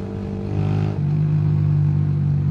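A Mash Black Seven 125cc four-stroke neo-retro motorcycle engine runs steadily while riding, a continuous close, low droning hum with a slight rise in pitch partway through, heard alone without voices.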